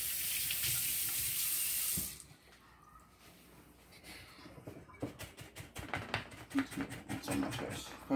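A tap runs loudly for about two seconds while something is rinsed, a close steady hiss that then stops, leaving quieter clinks and handling noises.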